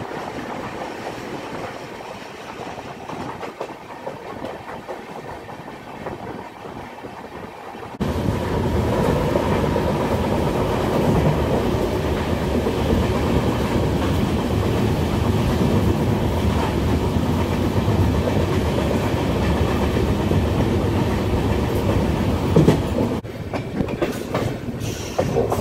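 Bhuj Bandra Special Express running along the line near Vapi station, a steady loud rumble of wheels and wagons with faint rhythmic clatter, growing louder after a quieter opening and easing slightly near the end.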